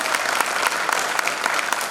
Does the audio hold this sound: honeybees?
no